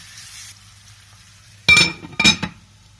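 Mixed vegetables and tomatoes frying in a pan for a Pakistani mix vegetable dish, with a soft steady sizzle and two loud bursts of stirring clatter near the end, no voices.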